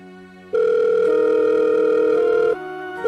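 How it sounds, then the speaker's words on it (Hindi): A loud, steady electronic telephone tone sounds for about two seconds, then drops to a quieter tone before rising again. "किसका फोन बज रहा है?"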